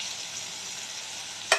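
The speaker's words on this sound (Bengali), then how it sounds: "তো আর ক্যাপসিকামটা একটু ভাজা ভাজা হয়ে গেছে।" Capsicum sizzles steadily and fairly loudly in a pan for paneer bhurji, ending with a sharp clatter of a utensil.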